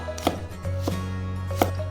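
A knife chops ginger and garlic slices on a cutting board, producing three or four sharp, close taps spaced apart over a steady background hum, with no talking.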